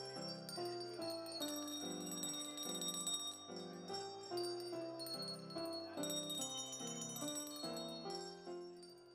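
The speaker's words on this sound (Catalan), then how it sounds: "van arribar a fer sonar una peça amb només campanes" A village band of parents plays a piece on bells only at a festival, with bright ringing tones struck in a steady melodic rhythm, clear and moderately loud with no talking.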